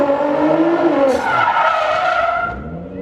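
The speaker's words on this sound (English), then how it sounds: "Looks like a pretty good place for Mark to do a burnout now that he has a rear-wheel drive conversion on his GTR." Tires screech loudly and continuously as a rear-wheel-drive-converted GTR performs a burnout, a sustained squealing wail with engine roar close by, no voices.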